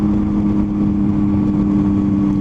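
A Triumph Tiger 800 motorcycle engine runs steadily and loudly up close, a constant droning hum with no talking.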